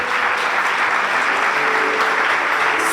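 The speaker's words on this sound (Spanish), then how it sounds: "¿Qué te parece si te das un fuerte aplauso porque sigues de pie?" Dense, sustained audience applause fills the room at a loud, even level, with no break from start to finish.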